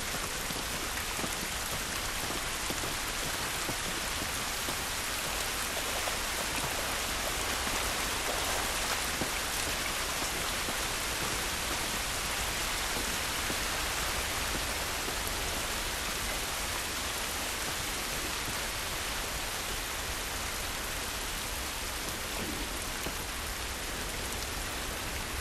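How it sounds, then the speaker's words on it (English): Steady, dense rain pours down throughout an outdoor scene in the video game The Last of Us Part 1, a constant broadband hiss of drops on surfaces with no breaks and no voices over it. "This rain ain't gonna do us any good."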